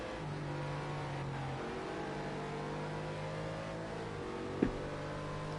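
On-board engine of a McLaren race car in Project Cars 2 holds steady tones that shift pitch through left-right corner sequences, with a brief sharp knock near the end; no voices are present.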